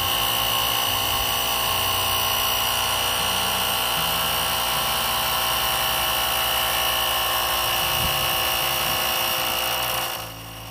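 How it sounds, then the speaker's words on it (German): An ASPERX AX260 portable air compressor inflating a car tire. It gives a loud, continuous mechanical whine and buzz that holds steady for about ten seconds, then drops off at the very end. "startet der Luftkompressor und pumpt bis zum gewünschten Luftdruck den Reifen auf"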